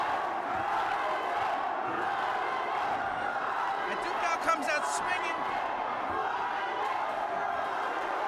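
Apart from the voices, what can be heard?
boxing crowd cheering for Aducal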